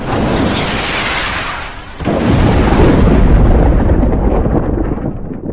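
A loud, deep thunder effect rolls and rumbles with a sharp crack near the start, then a heavy boom that reverberates and slowly fades, sounding alone without any voices.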